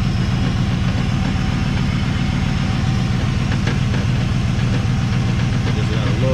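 A Camaro idles in park with a steady low engine rumble, and its transmission gives a slight, faint cracking noise under the drone, close by and continuous throughout.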